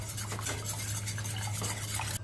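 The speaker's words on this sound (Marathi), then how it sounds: "तर ते आपण आता मिक्स करूया, सगळीकडे दही मिसळू." Curd stirred into warm milk for rose gulkand shrikhand, a soft continuous scraping and stirring with light utensil clinks over a low hum, fairly quiet and close.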